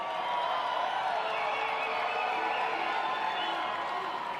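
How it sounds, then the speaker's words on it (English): Crowd applause and cheering at an event in Korea, a dense steady wash of clapping and whoops heard from some distance. "Hopefully you can hear that applause."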